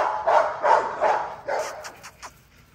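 XL pitbull dogs bark in four strong, evenly spaced woofs, then a few shorter, fainter yips and whimpers trail off, all close and without talk.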